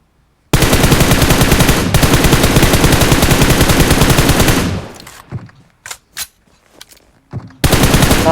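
Sustained automatic gunfire rattles loud and close in a shooter video game, a long burst that cuts off, then a few scattered single shots and clicks before another heavy burst starts at the end.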